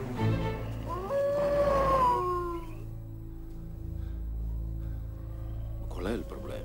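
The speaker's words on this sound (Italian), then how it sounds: "Qual è il problema? Sono soltanto lupi." A wolf howls as a long, drawn-out wail in the first seconds of a film scene, with another faint call near the end, all over a steady low hum.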